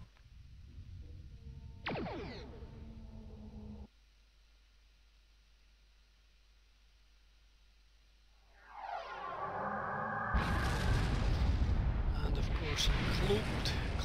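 Starship weapons fire and explosions in Star Trek Online, with a sharp weapon shot early, then a rising roar that bursts into a loud, sustained blast of rumbling explosion noise filling the final seconds, amid speech.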